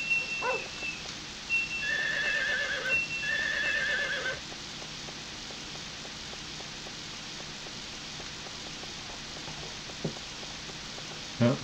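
A horse whinnies twice in the Harvest Moon 64 farming game, each call lasting about a second, against a quiet backdrop of soft rain-like patter and light ambient game noise, with no speech.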